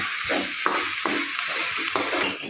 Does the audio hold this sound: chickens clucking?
no